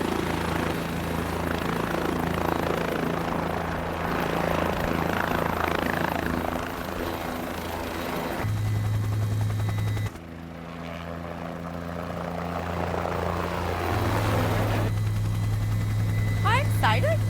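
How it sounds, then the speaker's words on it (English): A helicopter flies over the falls, its engine and rotor droning steadily and loudly from inside the cabin throughout, with brief voices over the noise. "We had decided to go over the falls as well, but safely, in a helicopter."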